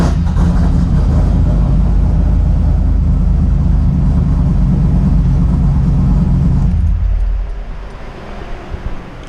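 A 1985 Trans Am engine starts and roars through a new exhaust with a heavy rumble, then cuts off near the end, leaving faint background noise.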